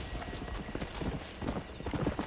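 Horse hooves clip-clopping at a steady walking rhythm in Red Dead Redemption, close and moderately loud, with a brief whinny mixed in.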